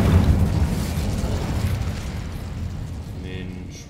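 An Incendio fire spell from Hogwarts Legacy erupts in a loud, roaring whoosh of flame at the start, then fades into a long rumbling tail of crackle and low burning noise.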